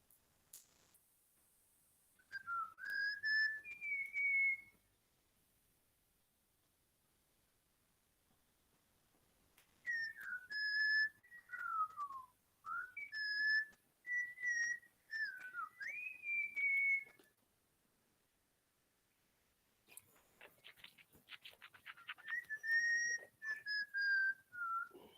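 Recorded bird calls play during a lecture: clear whistled, warbling phrases arrive in three bursts separated by silence, with no talk over them.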